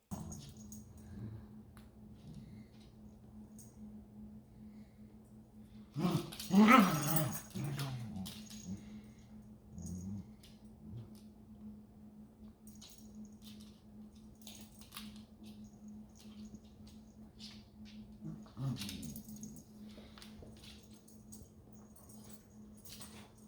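A puppy growls and whimpers close by in a quiet room, with one louder burst of squeaky growling and a few softer whines later.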